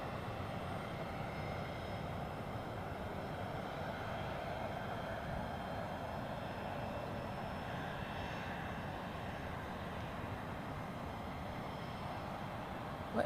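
Pilatus PC-24 business jet at Zurich Airport, a steady broadband jet roar held at a constant moderate level for the whole stretch with no speech.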